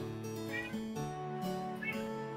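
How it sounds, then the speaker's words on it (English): A cat meows a couple of times in the room, fairly faint against a steady backdrop of sustained musical tones. "I still hear your cat."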